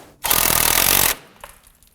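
A power tool tightens the inner tie rod nut on a 2008-2011 Ford Focus: one loud, steady, rattling impact burst lasting about a second, then a faint clink or two.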